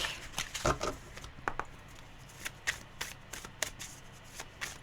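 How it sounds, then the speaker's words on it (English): A deck of tarot cards is shuffled close by and quietly, in a run of quick riffling flutters and soft slaps spread over several seconds, with no speech. "I'm just going to quickly cut this deck."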